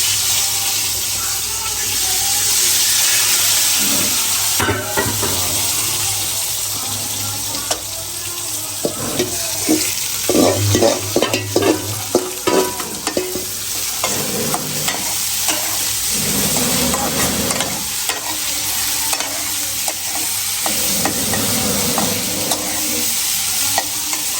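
Eggplant slices frying in a pan, a steady hissing sizzle with bursts of clattering stirs and scrapes, and a stretch resembling running water partway through.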